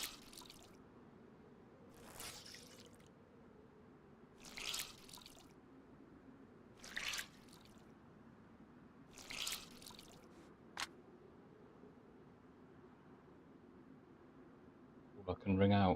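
Wet clothing is wrung out in the DayZ video game in a series of soft, squishy dripping bursts spaced a couple of seconds apart over a low hum, quiet and close.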